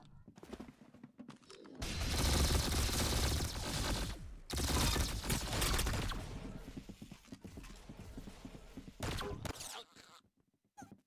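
Sustained bursts of gunfire ring out in a video game, dense rapid shots filling two long stretches with a short gap between them, ending in quieter scattered noise.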